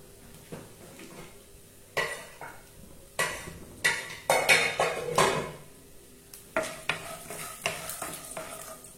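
Chana dal and urad dal frying in oil on a low flame for lemon rice, with a spoon scraping and clattering against the pan in repeated strokes over a soft steady sizzle, close by.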